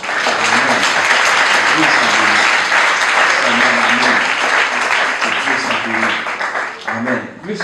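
Sustained applause from a congregation at a French-language church gathering, loud and continuous throughout, with voices and a tonal hum mixed under the clapping.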